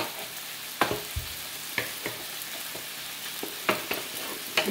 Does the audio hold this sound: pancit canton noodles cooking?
yes